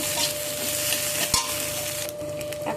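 Ginger and cumin paste gets stirred into greens frying in a pan, with continuous scraping and sizzling close by and one sharp clink of utensil on metal partway through, no voices.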